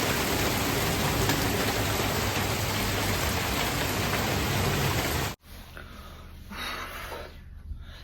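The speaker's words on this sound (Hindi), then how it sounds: "गुड़गांव में नए साल की शुरुआत बारिश के साथ।" Steady, dense rainfall in Gurgaon, India, hisses loudly for several seconds, then cuts off abruptly, leaving a quieter ambience with faint distant sounds.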